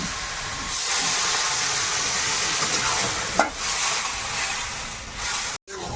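Water goes into a pan of prawn curry, setting off a loud, steady hiss and sizzle that fills the scene, with a brief stir or scrape partway through.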